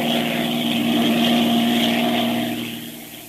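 Propeller airplane engine droning steadily as the plane circles, a radio drama sound effect from 1938; a loud, continuous hum with a steady tone that fades slightly toward the end, no voices over it.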